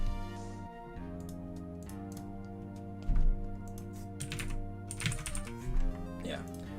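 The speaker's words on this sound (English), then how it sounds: "let me just type this" Fast bursts of computer keyboard typing clatter over a steady low background hum, with quick key clicks grouped into irregular runs.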